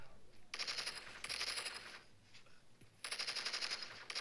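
Gunfire aimed at zombies and barrels in the video game Into the Dead 2, heard as three rapid bursts of automatic fire separated by short pauses.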